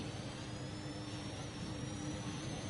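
A Formula 1 car engine in the F1 2021 racing game drones steadily at a fixed pitch, sounding held in one gear, faint and continuous with a thin high whine on top and no speech.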